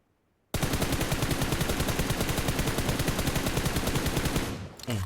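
Rapid automatic rifle fire in PUBG Mobile, a loud unbroken burst of roughly four seconds starting abruptly after silence and trailing off at the end.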